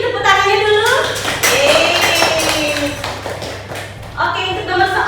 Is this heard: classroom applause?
yes